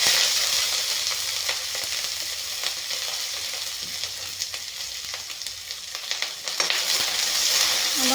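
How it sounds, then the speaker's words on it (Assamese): Food sizzles and spits in hot oil in a wok, a dense, steady frying hiss that carries on for the full stretch, close and fairly loud, with a few brief stirring clatters. "অলপমান ভাজি ল'ম"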